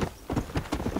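Horse hooves in the video game Red Dead Redemption, a quick rhythmic clip-clop of several hoofbeats, soft and close, with no talking.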